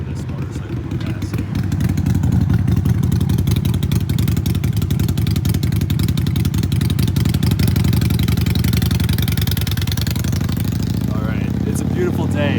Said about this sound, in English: we'll wait for this motorcycle to pass